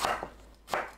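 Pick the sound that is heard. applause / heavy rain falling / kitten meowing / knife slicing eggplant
knife slicing eggplant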